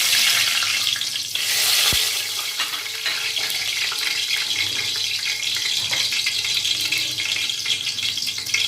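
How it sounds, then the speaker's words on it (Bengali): Star anise and bay leaves frying in hot oil left from fried onions, giving a dense, steady, close sizzle with a brief knock near the start. "এই পর্যায়ে বেরেস্তার তেলের মধ্যে আমরা দিয়ে দিচ্ছি 2টা স্টার মশলা, দিয়ে দিচ্ছি 2টা তেজপাতা।"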